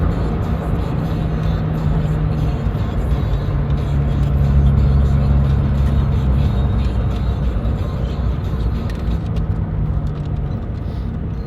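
Steady low engine drone and road rumble fill the cabin of an old car while driving, a constant, even hum with no break or change in pace.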